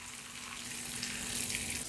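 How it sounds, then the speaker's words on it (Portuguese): Oil or butter heating in a pan for homemade pamonha, giving a steady, close hiss and sizzle that holds evenly throughout with a faint low hum underneath and no talking. "ferver o óleo ou a manteiga que você estiver fazendo"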